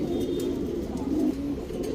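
HMT pigeons, a pair of large quality birds, coo in a low, rolling series of soft throaty calls that run continuously up close, with faint higher chirps from other birds behind.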